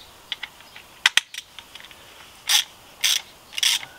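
A 21 mm socket on a ratchet tightens the front shock absorber bolts of a Renault Koléos: scattered light metallic clicks, then three short bursts of rapid ratcheting, close and fairly loud.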